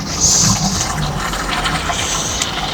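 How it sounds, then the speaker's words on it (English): Water from a container splashes over mushroom beds along garden pathways, a steady close wash of gushing liquid running throughout without pause. "now I'm going to give them all a good splash of water"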